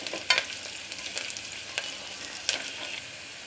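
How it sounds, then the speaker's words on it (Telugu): Onion, torn bay leaves and finely cut dried red chilli fry in a pan for a Rayalaseema-style dried fish curry, a steady soft sizzle broken by a few sharp stirring scrapes of a spoon. "ఒకటి ఉల్లిగడ్డ వేసుకోవాలి కొద్దిగా ఫ్రై అవ్వాలండి"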